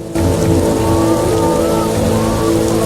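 Rain pours steadily in The Witcher, a loud, continuous hiss of rainfall with a low rumbling drone underneath.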